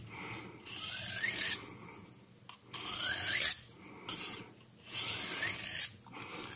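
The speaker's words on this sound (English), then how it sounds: "So on the flatter side, just drag a couple of times and then a couple more with the edge bevel." Serrated knife blade dragged through a Victorinox dual sharpener, several slow rasping strokes in a row with short pauses between, close and fairly loud, no talking.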